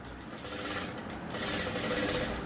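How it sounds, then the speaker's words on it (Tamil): A sewing machine stitches a half saree blouse with a continuous rapid mechanical whir, steady and close, though fairly quiet. "கொஞ்சம் கேர்ஃபுல்லாக ஸ்பீடாக தைக்கிறேன்"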